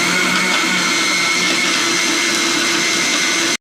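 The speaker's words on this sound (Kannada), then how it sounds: "ಸ್ವಲ್ಪ ಹಾಗೆ ರುಬ್ಕೊಳ್ಳೋಣ ಬನ್ನಿ" A mixer grinder whirring loudly and steadily as it grinds a wet masala of chilli powder, coriander powder and water, cutting off abruptly at the end.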